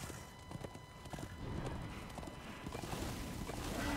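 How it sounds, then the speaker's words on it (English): Horse hooves clopping in a steady galloping rhythm while riding a steed in the video game Darksiders 2, close and moderately loud over ambient game background. "Just ride a horse"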